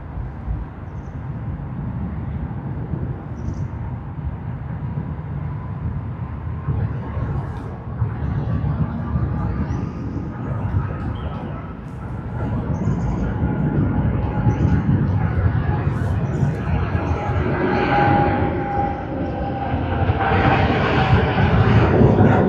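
A United airliner begins its takeoff roll at Sydney Airport, bound for Los Angeles, a broad rumbling jet roar building steadily louder from moderate distance, with faint voices now and then.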